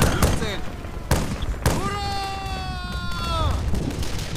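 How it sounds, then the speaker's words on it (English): Explosions and gunfire in a World War II battle video game set at Küstrin, with several sharp blasts early on followed by a rising whistling, shockwave-like effect and rumbling fire. "Now that's an explosion."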